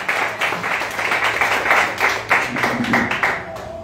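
A church congregation claps and applauds through a Portuguese-language sermon, with rhythmic bursts of hand clapping that rise and fall, moderately loud, while a few voices call out beneath it.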